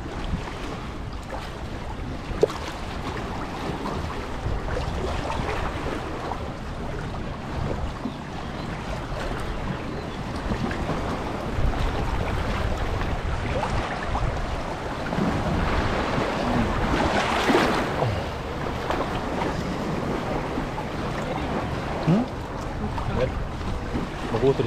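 A boat rumbles in Capri's Marina Grande harbor, mixed with lapping waves and gusty wind buffeting the microphone; a low engine drone runs throughout, with faint voices now and then.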